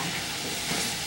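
Liquid poured into a hot stir-fry pan of vegetables for rice, giving a broad, steady hiss of steam that holds level for about a second, close and moderately loud with no talking.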